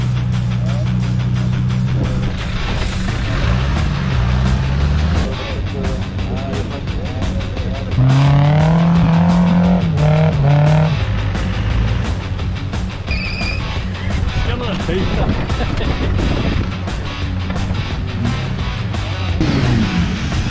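Land Rover 4x4 driving off-road at a club event, a steady loud engine drone with shifting pitch and passing revs throughout, close by, with people talking briefly over it.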